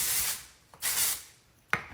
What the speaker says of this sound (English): we're gonna spray our hair with the Color Wow